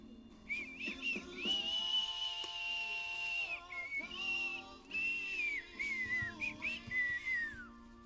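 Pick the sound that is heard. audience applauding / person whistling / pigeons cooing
person whistling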